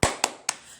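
Hand claps in a children's rhythm clapping game: three sharp, evenly spaced claps about a quarter second apart, close and clear with a short decay after each.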